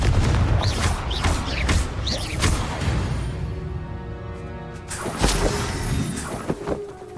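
Confringo spell explosions in Hogwarts Legacy land as booming, shattering crashes. Several sharp hits come early, a lull follows, then another loud burst later, mixed with clattering debris and game sounds.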